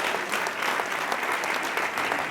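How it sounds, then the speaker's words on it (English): An audience applauds a group of legislators with full, continuous clapping that holds at an even level throughout. "Give these legislators a big round of applause"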